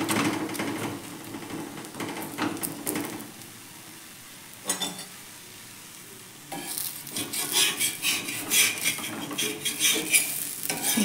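Bengali pitha batter sizzles and crackles as it fries in oil in a pan, with scraping and stirring clatter throughout and a louder, busier stretch of sizzling near the end.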